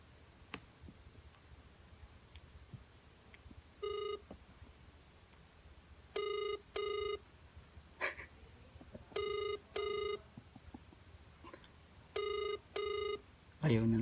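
A phone call being redialed: a few short keypad tones, then repeated paired ringback tones in a steady rhythm, heard faintly through a phone line with light clicks in between.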